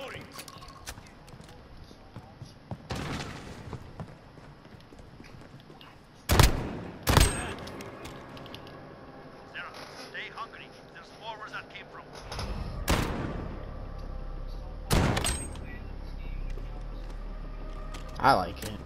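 Gunfire in a Modern Warfare 2v2 multiplayer match: several sharp, loud shots spaced seconds apart stand out against quieter in-game background noise.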